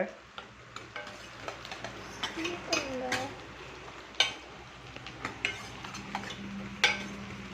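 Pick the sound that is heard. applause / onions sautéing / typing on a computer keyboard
onions sautéing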